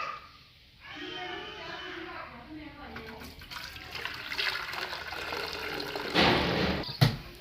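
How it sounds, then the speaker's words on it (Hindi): Jaggery water is poured through a strainer in a home kitchen, a soft trickling and splashing that grows louder toward the end, with someone talking over it. "पानी मैंने छान लिया है"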